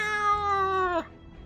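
A cat from the video game Choices: Nightbound meows insistently at a bar, a single sustained, tonal mew that holds steady and then drops off sharply into low background ambience.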